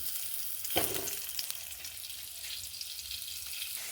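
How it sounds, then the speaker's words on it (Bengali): Potato pieces sizzling and frying in hot oil in a village kitchen, a quiet continuous crackle with a few stirring clatters, no talk. "এবার এই তেলের মধ্যে প্রথমে আলুগুলো একটু ভেজে নেব।"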